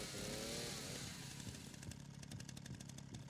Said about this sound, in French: C'est fou de sortir une tronçonneuse comme ça dans un hôpital.